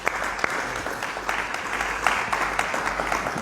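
A church congregation claps together in praise of Jesus, a lively, sustained patter of many hands with a few sharper individual claps, moderately loud and without speech.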